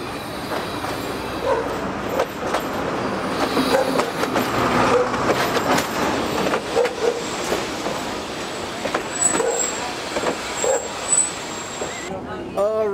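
Narrow gauge railway train in Bulgaria rolling along, a steady rumble with scattered clicks and brief squeals from the wheels, people talking over it throughout.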